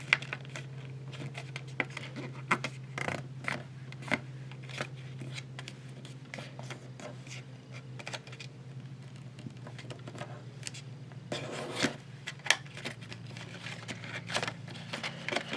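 Sheet of paper being creased and folded into a paper jet, with scattered crisp rustles and sharp crinkling clicks close by, over a steady low background hum.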